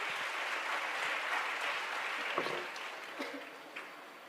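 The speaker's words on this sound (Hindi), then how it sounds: "बार जोरदार तालियों से स्वागत करेंगे" Applause from a gathering welcoming a senior social worker guest at a spiritual talk on Sanatan, fairly faint continuous clapping that thins toward the end with a few separate claps.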